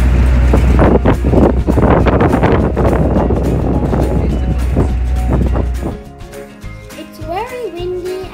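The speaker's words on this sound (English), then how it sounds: "It's very windy and very misty" Strong wind on misty Moon Plains in Nuwara Eliya, Sri Lanka, buffets the microphone with a heavy, roaring rumble for several seconds, then eases off, leaving fainter outdoor sounds.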